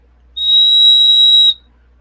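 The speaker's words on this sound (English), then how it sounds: "you can whistle for some help." A single clear, steady whistle blown for about one second, loud and alone in a quiet room with no talk.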